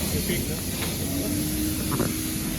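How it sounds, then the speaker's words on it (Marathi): A steady, hissing vacuum runs close by while cleaning the inside of a car, holding an even drone throughout with people talking over it. "हे व्हॅक्यूम आहे आणि आपल्या साईडचं सगळं आपण क्लीन करू शकतो मोठं व्हॅक्यूम पंप दिलेलं"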